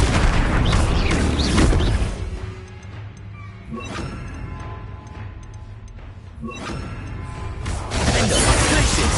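The Propendo spell cast in Hogwarts Legacy on PS5: loud bursts of whooshing, crashing magic effects, with a quieter mechanical stretch between the blasts and another strong burst at the end.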